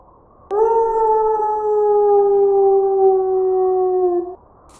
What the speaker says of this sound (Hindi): तभी गुफा से बहुत ही डरावनी दहाड़ने की आवाज आती है।